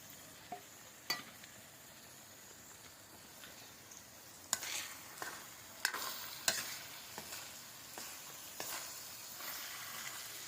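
Sliced onions fry in a pan as a spatula stirs them: a low steady sizzle underneath, broken by sharp scraping clicks and taps of the utensil against the pan at irregular intervals, close up and with no one talking.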